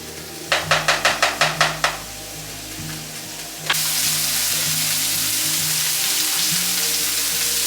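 Sausage and green peppers fry in a hot pan, first a quick run of about eight clicks from a stove igniter, then a sudden loud, steady sizzle that continues close up without any talking.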